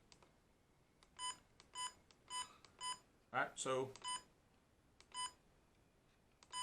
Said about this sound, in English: If you turn beep sounds on, it will beep every time.